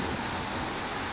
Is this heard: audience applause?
no